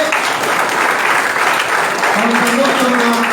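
A crowd at a training program claps loudly and continuously to welcome a company vice president to the stage, a thick, even roar of applause with a voice briefly audible beneath it near the end.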